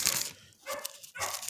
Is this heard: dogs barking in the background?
yes